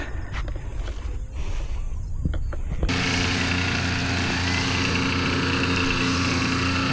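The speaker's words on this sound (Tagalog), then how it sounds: "i-grass cutter." A grass cutter engine starts up loudly and keeps running steadily near the microphone, with a steady droning hum and buzzing whine over weeding work on a small farm field of furrows.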